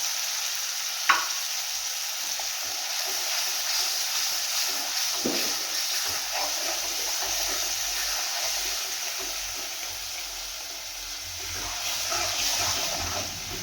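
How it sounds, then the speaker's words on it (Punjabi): Ground tomato with onion, garlic and ginger frying in a pan on medium gas for black chickpea curry, making a steady soft sizzle with occasional stirring scrapes and clicks, close by and without talk. "ਇਹਨੂੰ ਹੌਲੀ ਹੌਲੀ ਹਿਲਾਉਂਦੇ ਰਹਿਣਾ"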